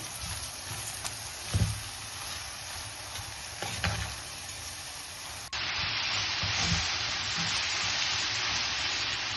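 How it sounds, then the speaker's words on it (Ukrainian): Shredded cabbage fries in a pan with mushrooms while being stirred, giving a steady broadband sizzle with a few scraping stir sounds, and the hiss rises sharply partway through. "Помішуючи, смажимо до готовності капусти."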